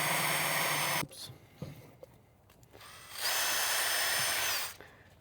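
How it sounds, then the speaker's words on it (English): A power drill whirs loudly for about a second, goes quiet briefly with small clicks, then runs again in a sustained high-pitched burst, drilling a small hole through the center of an arrow. "just drill a little hole right through the center of it"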